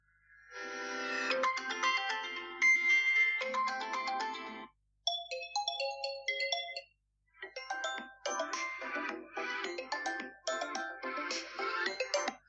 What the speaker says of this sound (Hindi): यहाँ पर कुछ रिंगटोन्स चलाकर देख लेते हैं